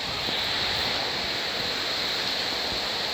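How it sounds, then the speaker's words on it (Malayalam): Heavy rain pours down in a dense, constant hiss, loud and unbroken, with no talking over it. "നല്ല മഴയുണ്ട് ഗൈസ്."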